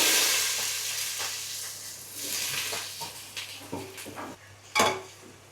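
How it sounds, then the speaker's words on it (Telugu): Onions go into a ladle of hot oil in a pan for a stuffed-eggplant and egg masala curry, giving a steady broad sizzle with clinks of a metal ladle and utensils against the pan, close and moderately loud, no talking. "ఇది దించుకొని ఒక గరిటె నూనె. ఇప్పుడు ఉల్లిపాయలు వేస్తాం."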